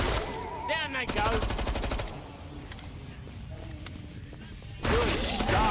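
Rapid bursts of gunfire in the zombie shooter Killing Floor 2, loud and repeated, broken by a quieter stretch before another burst, with a voice shouting over the shots.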